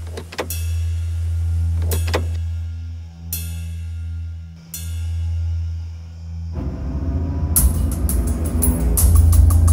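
A car starts and pulls away, its steady engine hum broken by a few sharp clicks before the revving, rushing drive-off sound grows louder toward the end.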